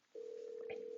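A steady electronic call tone sounds from an office laptop headset as a phone call is placed, holding one clean pitch for about a second with a brief soft click near the end.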